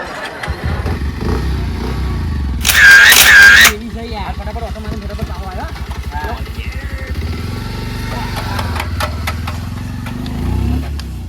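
A motorcycle engine kicks over and settles into a steady, throbbing idle up close, with a loud burst of noise early on and people talking over it.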